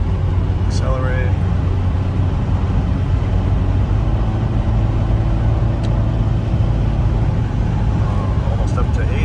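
A 2002 Honda Accord Special Edition VTEC accelerating on a freeway, a steady loud engine and road roar heard from inside the cabin, with a person talking over it.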